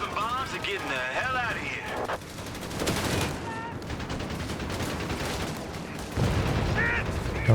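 Machine gun fire and mixed battlefield gunshots rattle on continuously in a Company of Heroes 3 match, dense and loud, while a commentator talks over the action.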